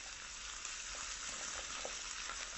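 Red peppers frying in olive oil in a pan over medium heat, a steady close hiss of sizzling oil with faint scattered pops throughout, no voices.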